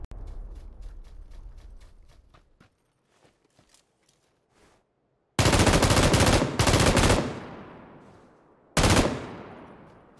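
Bursts of M249 machine gun fire in PUBG on Xbox One, loud and close: one long sustained volley with a short break, then a second shorter burst, coming after quieter footsteps and small clatter.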